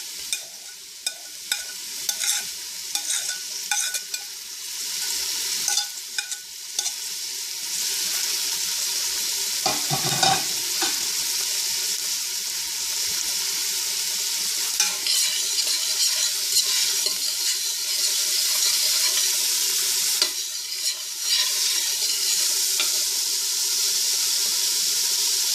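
Garlic, sweet onion and celery sizzle in a pan, a continuous close frying hiss broken by intermittent clatters of stirring, with a louder scrape around the middle.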